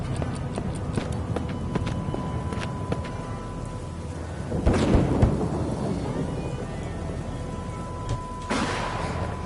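Steady heavy rain pours throughout in a video game, with deep rumbling thunder rolling in midway and again near the end, loud and continuous.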